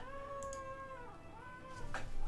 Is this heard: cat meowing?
yes